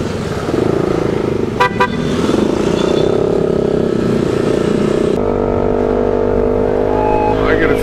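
A group of about ten motorcycles sets off together on a ride toward Dingalan, engines idling and revving loudly nearby, with a couple of short horn toots and talk mixed in.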